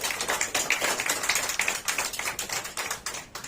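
Audience applause for top-ranking JEE students at a coaching college event, brisk crisp clapping from a group, steady and close with no talk over it.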